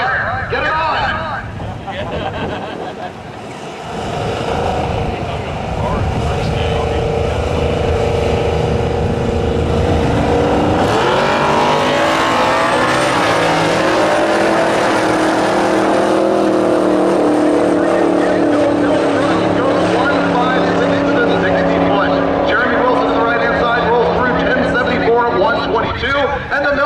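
A milk truck drag racing down the strip at a wheelstanding championship, its engine roaring loudly and steadily under an announcer's continuous commentary, with pitch climbing as it accelerates through the run.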